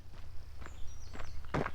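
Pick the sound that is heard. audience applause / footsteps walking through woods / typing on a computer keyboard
footsteps walking through woods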